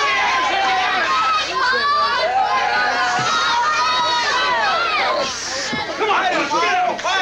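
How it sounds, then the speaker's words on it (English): Outside voices cheering for wrestler Buzz Sawyer at a 1982 Georgia wrestling match, a dense shouting crowd with excited yells and chatter running throughout, close and loud. "some outside voices cheering on Buzz Sawyer"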